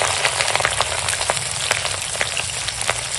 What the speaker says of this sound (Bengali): এখন কপিটা ভেজে নেবো, কপিটা রান্না করবো